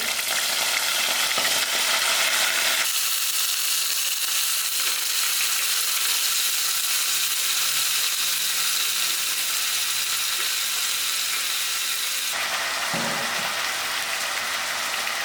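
Calabash (loki) pieces dropped into hot oil with mustard seeds, a loud dense frying hiss that roars up, eases into a steady sizzle, then surges again near the end, with no talk.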